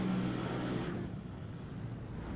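Race car engines revving together on the grid before a race start in a racing video game, a dense, moderately loud engine drone that eases slightly partway through.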